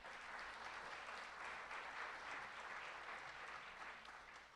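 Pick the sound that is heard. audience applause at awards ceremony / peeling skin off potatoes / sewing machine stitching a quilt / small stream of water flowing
audience applause at awards ceremony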